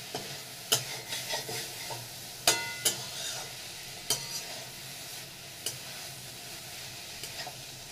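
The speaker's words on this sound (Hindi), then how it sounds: "अब मैं इसको अच्छे से थोड़ा सा चला लूँगी।" Sweet potato leaf bhaji sabzi is stirred in a pan, with a steady sizzle of frying under repeated scraping strokes and a few sharper clicks of the spoon against the metal, close and fairly quiet.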